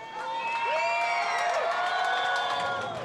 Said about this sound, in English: the victor returns to the applause of his Citroën team and the local fans in the Leon